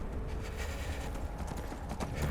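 Horse hooves clip-clop steadily in the Skyrim video game, a close, even rhythm of hoofbeats carrying through the whole stretch with no talking over it.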